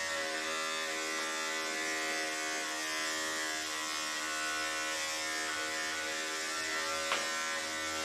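Electric 5-speed dog grooming clipper fitted with a 7 blade, used on a matted Maltipoo, giving a steady close buzzing hum throughout with no talk.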